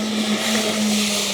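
A Horizon Hobby Pro Boat River Jet Boat 23" RC boat runs at about three-quarter throttle on a small creek, its motor holding a steady whine over the rush of churned water.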